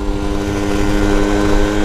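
A souped-up moped engine drones loud and steady while being ridden fast, a buzzing two-wheeler tone under heavy wind rush throughout, with no talking.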